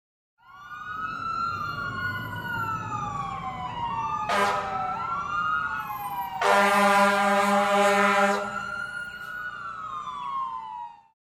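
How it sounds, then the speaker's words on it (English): Wailing fire engine siren rising and falling as the truck pushes through heavy street traffic near construction, loud and close, with a brief horn-like blast midway and a sustained harsh air-horn burst later. "A fire engine tried to get through."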